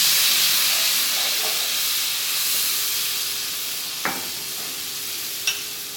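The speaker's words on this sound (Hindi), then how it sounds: "थोड़ा सा पानी डालें।" Steady hiss and sizzle as a little water is added to a hot pan of onions in ghee, with a couple of faint clinks near the end.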